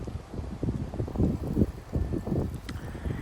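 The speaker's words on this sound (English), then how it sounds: "Oh, there goes the wind over there." Strong nighttime wind gusts of about 30 mph sweep through trees in Frisco, Texas, a rough, buffeting rumble that swells and fades in uneven surges, heavy on the microphone, with no voices.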